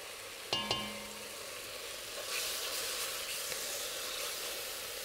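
Spice mix for a Goan pheasant curry dropped into hot oil in a pan, with a sharp clatter and then a steady, close sizzle that keeps hissing throughout without any talk.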